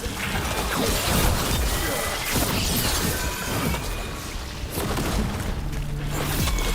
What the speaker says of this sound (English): Chain explosion.